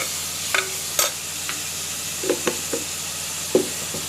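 Spoon stirring chilli milk curry in a pan, with scattered scraping taps over a soft continuous sizzle; moderately close, no talk.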